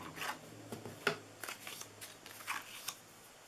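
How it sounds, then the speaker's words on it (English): Paper craft pieces for a Christmas treat holder are fed through a cut and emboss machine, giving soft papery rustles and several short clicking bursts spaced across a quiet stretch, close by. "we can run all of these through on our cut and emboss"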